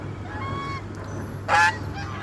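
A single loud goose honk rings out near the end, close by, preceded by fainter honking calls over a steady low hum.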